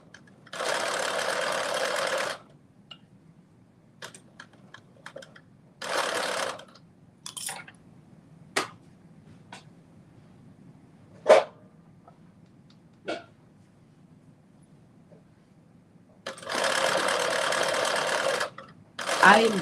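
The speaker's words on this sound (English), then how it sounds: "I am definitely having a much easier time sewing this on when it's on my dress form." A sewing machine stitches a ruffled kaftan in three steady bursts, early, midway and at the end, separated by quiet stretches with scattered clicks and taps.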